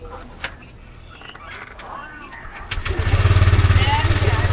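A motorcycle engine starts up close by after a stretch of voices, then settles into a loud, steady idle with a pulsing putter.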